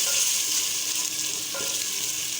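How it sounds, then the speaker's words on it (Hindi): Tomatoes and spices for a beef handi fry in a pan with a steady, close hiss and sizzle that runs throughout, a brief stir partway through, and no voices. "टमाटर डाल के मैंने अच्छी तरह मसाले को भून लिया है।"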